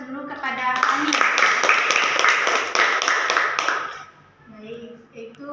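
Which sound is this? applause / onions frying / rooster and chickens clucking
applause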